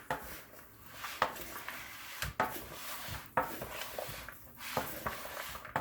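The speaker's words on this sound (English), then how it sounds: "So we're just going to give this a stir." Potato salad vegetables are stirred together in a bowl, giving scraping, knocking strokes that repeat about once a second, close up with no voices.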